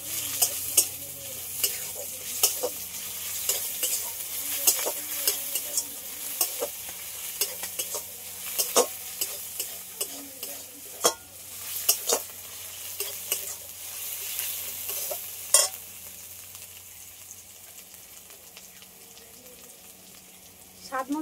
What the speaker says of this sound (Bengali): এগুলো সব একসাথে একটু লাল লাল করে ভেজে নেব